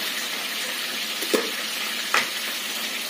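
Prawns frying in a pan give off a steady, close, bright sizzle for a few seconds, with two brief clinks or stirring taps partway through and no talking.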